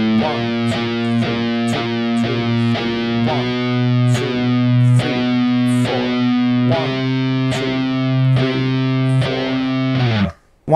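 A distorted metal electric guitar plays a slow triplet-to-eighth-note exercise, with steady, evenly spaced picked chords ringing loudly and alone, then cutting off abruptly at the end.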